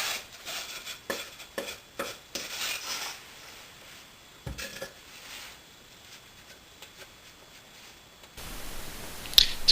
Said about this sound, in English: Next, I rub some sawdust onto the excess glue.